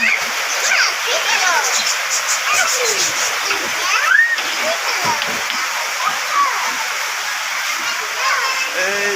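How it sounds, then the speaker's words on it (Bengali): Heavy rain pours down on a rooftop in a dense, continuous rushing splash, with faint high chirping sounds drifting above the downpour. "প্রচুর বৃষ্টি পড়তেছে"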